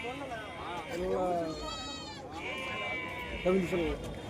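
Goats bleat nearby at a weekly market in Nandigama, Andhra Pradesh, several wavering calls overlapping one another amid a busy outdoor crowd murmur.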